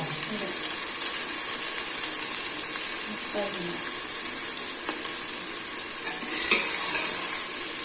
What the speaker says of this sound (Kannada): ಈರುಳ್ಳಿ ಎಲ್ಲ ಫ್ರೈ ಆಯ್ತು